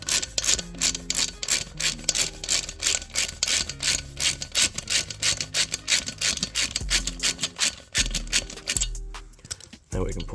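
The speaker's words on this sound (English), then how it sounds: "So I'm decompressing the spring now." A valve spring compressor works on a Honda H-series engine head during a rebuild, compressing a valve spring to free the valve. It gives a steady run of close, raspy clicking and scraping under ongoing talk.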